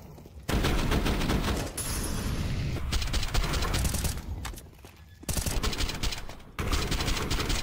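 Gunfire in a Counter-Strike match on the Ancient map during a Red Canids vs Fluxo CBCS Season 4 game: dense rapid rifle fire in long sustained bursts with brief quiet gaps between them.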